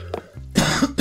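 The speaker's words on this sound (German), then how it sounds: "Kleiner Huster" A person coughs close to the microphone, with a short throat sound followed by a couple of harsher bursts in quick succession.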